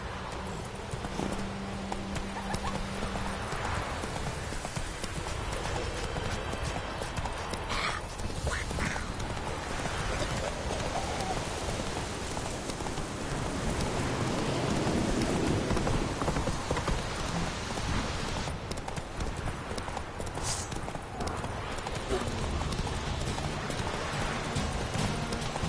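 A horse gallops through rain in The Witcher 3, its hooves drumming in a quick, steady clip-clop under a constant hiss of rainfall, moderately loud throughout.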